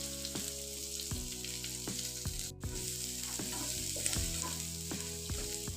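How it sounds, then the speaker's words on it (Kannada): Chopped dried red chillies and onion frying in oil in a pan, a steady hissing sizzle broken by regular scrapes and knocks of a spoon stirring. "ಎರಡು ಒಣಮೆಣಸಿನ್ಕಾಯಿನ ಕಟ್ ಮಾಡಿ ಹಾಕ್ಕೊಂಡು ಫ್ರೈ ಮಾಡ್ತಾ ಇದ್ದೀನಿ"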